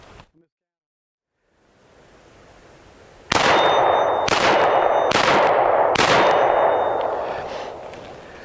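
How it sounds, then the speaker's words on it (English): Four loud, sharp 9mm pistol shots from a Ruger P95 at an outdoor range, evenly spaced about a second apart, each followed by a ringing metallic tail, after a quiet start. "Shoot again here."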